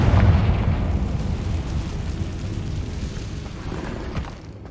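A Confringo spell blasts in Hogwarts Legacy inside an ancient cave chamber, a heavy booming burst at the start that rolls into a long rumbling decay, loud and close, with no voice over it.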